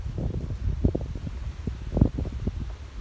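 Strong wind gusting outdoors in South Florida, buffeting the microphone with a steady low roar and sharper gusts near one and two seconds, no voices.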